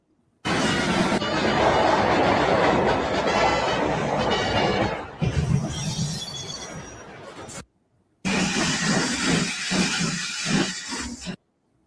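A steam train from Thomas & Friends puffs with a loud, steady hissing chuff for several seconds, then a brief silence, then rhythmic puffing resumes close up.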